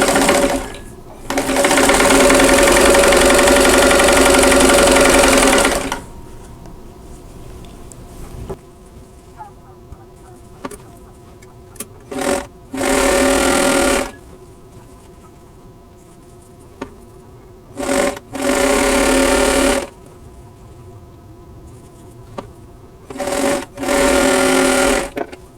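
A sewing machine stitches quilt block seams in loud, rapid whirring bursts: one long run of several seconds, then a few shorter runs separated by quiet pauses.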